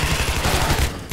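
Rapid machine gun fire in the shooter game Shadow Warrior, a fast steady stream of punchy shots close up, cutting off briefly near the end before one more burst.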